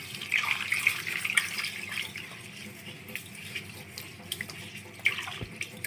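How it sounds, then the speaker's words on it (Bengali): Rice is being washed in water in a home kitchen, faint sloshing and splashing with small bursts of trickling and a few clinks, close and quiet. "চালগুলি জল দিয়ে ভালোভাবে ধুয়ে নিব।"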